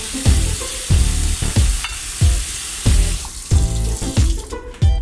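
Water from a kitchen faucet splashing into a sink while dishes are washed, with repeated bursts of splashing and clatter every half second or so, close and loud.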